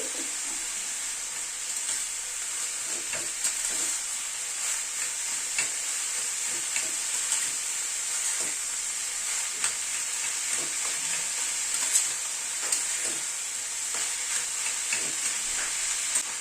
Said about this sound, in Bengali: থোরটাকে আস্তে আস্তে কষিয়ে নেব